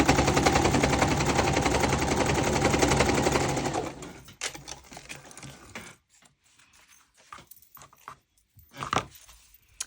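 Sewing machine stitching an embellishment onto a junk journal notebook, a loud, fast, even mechanical rattle for about four seconds, then stopping and giving way to a few quiet handling clicks and rustles.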